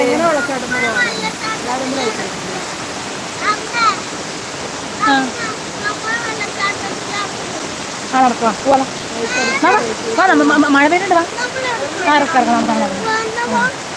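Steady rain hisses in a dense, even wash, with several people chatting and calling out over it throughout.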